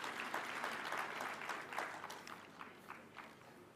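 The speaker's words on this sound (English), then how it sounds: "Let's give him a clap as he's coming." A crowd at a conference opening ceremony breaks into steady, sustained applause, many hands clapping at once and gradually thinning toward the end.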